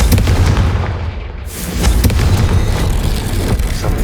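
Blasting spell explosion in Hogwarts Legacy, a loud, dense boom with a sharp burst near the middle, followed by a sustained rumbling roar that fills the rest of the moment.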